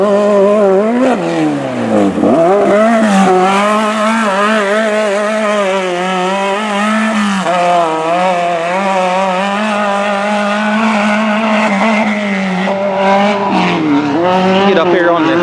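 A pro racing buggy engine roars steadily at high revs, its pitch dipping and climbing as it works around a speedway track, loud and continuous throughout.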